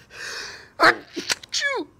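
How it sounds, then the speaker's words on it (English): A single loud, close sneeze during a live gaming stream, with a sharp inhaled buildup, an abrupt explosive burst, and a brief vocal trailing afterward. "when you gotta sneeze, you gotta sneeze"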